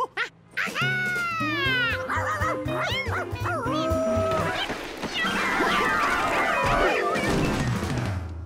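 A cartoon dog in a children's animated show whimpers and yips, then barks amid crashing and clattering sounds, loud and close, with cartoon music and effects mixed in.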